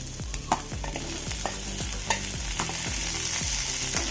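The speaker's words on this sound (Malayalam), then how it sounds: "സവോള ഒന്ന് വാടി വരുമ്പം മൂന്ന് വെളുത്തുള്ളിൻ്റെ അല്ലി കട്ട് ചെയ്ത് ഇട്ട് കൊടുത്തു" Sliced onion and garlic fry in a pan, giving a steady close sizzle punctuated by repeated rhythmic scraping strokes of stirring, with no voices.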